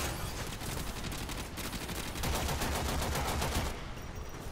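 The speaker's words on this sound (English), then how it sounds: "they start shooting my clone" Enemies shooting at a clone in the video game Warframe, a fast sustained burst of rapid gunfire, loud and continuous for the whole stretch.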